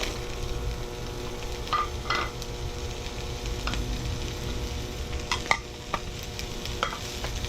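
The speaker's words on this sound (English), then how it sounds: "I'm going to heat up the pan again, and I'm going to toss in my zucchini, onions, and mushrooms" Zucchini, onions and mushrooms stir-fry in olive oil in a pan over relatively low heat. A soft, steady frying hiss carries scattered scrapes and clinks of a utensil stirring the vegetables, with no speech.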